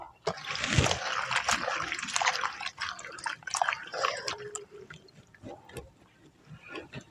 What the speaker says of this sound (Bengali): কড়ার মধ্যে জল দিয়ে দিচ্ছি অল্প করে